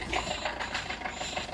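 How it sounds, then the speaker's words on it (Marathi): Vehicle engine running as it is started and taken out at night in the rain, a steady low rumbling idle with light rhythmic knocking, close and moderately loud. "आता गाडी काढणं चालू आहे मित्रांनो."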